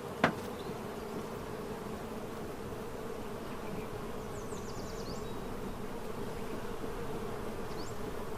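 Honeybees at a beekeeper's apiary buzz in a steady, dense drone, with individual bees passing close now and then and a brief click near the start; no one speaks.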